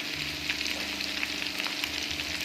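Kaleji masala frying in a pan, a low, steady sizzle and bubbling with soft, irregular crackles, fairly quiet and close, with no voices.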